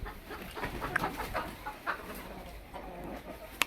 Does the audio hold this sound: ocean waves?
no